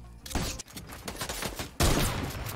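Rapid bursts of gunfire in the video game Fortnite, a cluster of sharp loud shots in quick succession ending in one heavier blast.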